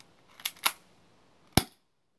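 Spring-powered airsoft M1911 pistol giving two quick sharp clicks, then a single louder snap a second later, close and alone.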